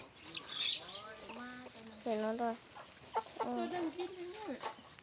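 White chickens clucking near a rural home, a few close, drawn-out clucks and squawks in short bursts, with a person speaking briefly.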